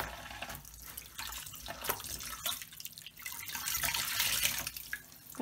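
Water runs steadily from a tap into a basin for washing a reborn toddler doll, a continuous splashing wash with small drips throughout and no talking.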